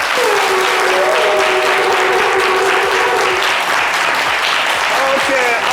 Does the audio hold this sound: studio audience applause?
yes